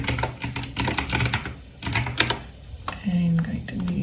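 Typing on a computer keyboard, quick clattering bursts of keystrokes in irregular runs with short pauses, heard close alongside a person speaking.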